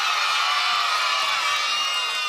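A studio audience of children at a kids' TV show cheering loudly and steadily in a brief burst of crowd noise.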